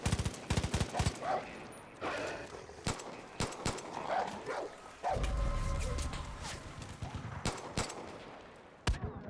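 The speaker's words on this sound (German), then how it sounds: "Alter, wo ist denn der Hund?" A dog barking in Far Cry 5, amid sharp gunshot bursts and game action, with several loud barks and shots spread through the scene.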